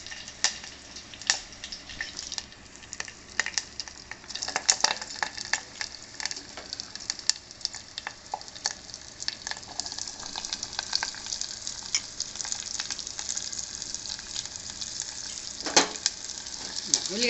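Chopped onions sizzling in oil with cumin, mustard seeds and curry leaves in a pan for a greens curry, a steady close frying crackle with occasional pops and stirring clicks.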